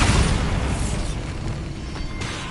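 A Bombarda spell explosion in Hogwarts Legacy: a loud, close boom at the start that rolls off into a sustained rumbling decay, with no voices over it.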